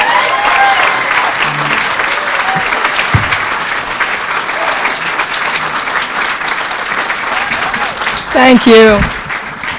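Warm applause from the audience at a New York State Writers Hall of Fame induction ceremony, a long, full wash of clapping that carries on steadily before a voice comes in near the end.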